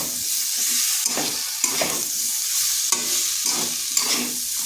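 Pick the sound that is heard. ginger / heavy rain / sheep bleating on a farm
ginger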